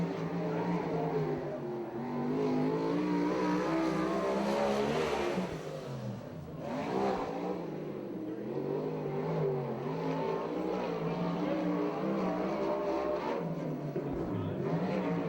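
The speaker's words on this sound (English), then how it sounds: "Good straightaway speed for Cardy." A USAC/CRA sprint car with a Viper chassis and Downey engine on a qualifying lap at Tulare, its engine roaring loud and steady as it accelerates down the straightaway, with a brief dip in the middle.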